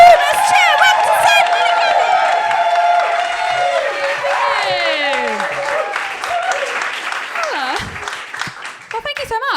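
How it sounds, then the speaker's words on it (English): A comedy competition audience claps and cheers loudly and continuously, the applause dense at first and gradually thinning, with whoops and shouts rising above it. "get that applause going. Yes! Spread it around the room. Let's cheer."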